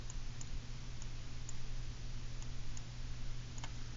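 Computer mouse clicking: a handful of sharp, sparse clicks at irregular intervals over a steady low background hum.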